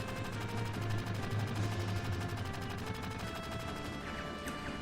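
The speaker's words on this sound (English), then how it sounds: "they're going to start firing at it" Rapid gunfire rattles at a rocket in Final Fantasy VII, a dense sustained burst of shots layered over a loud rumbling engine drone and game music, with no talk.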